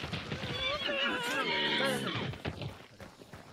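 A horse neighs in the Hunt: Showdown video game, a loud, drawn-out whinny with a wavering, descending pitch lasting about two seconds, close and clear, fading into quieter game noise afterward.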